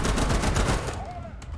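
A 30mm cannon on a light tank in War Thunder fires a rapid run of heavy thumping shots, then stops and leaves a quieter tail with a brief tonal whine.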